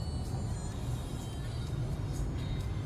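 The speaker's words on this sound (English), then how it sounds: "Bumper to bumper traffic," Bumper-to-bumper road traffic near Los Angeles makes a steady low engine rumble and road drone, with no passing car standing out and no talking.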